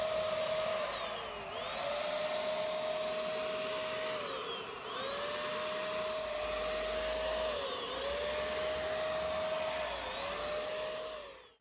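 A steady, loud mechanical whine with a fairly constant pitch, dipping briefly a few times, from a motor-driven spray gun applying clear polyurethane to a table, running almost continuously.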